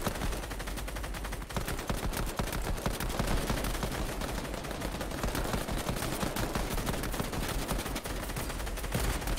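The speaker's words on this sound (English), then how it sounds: "Shot fired from window to window," Gunfire in a Fortnite match rings out from window to window, dense and continuous rapid shots and crackling bursts running the whole time under a constant noisy game backdrop, with no talking.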